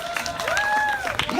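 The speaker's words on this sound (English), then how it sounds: "By applause, how many people for the slow way?" A comedy show audience applauds and cheers as a vote, a brief dense burst of clapping with whoops and whistles rising over it.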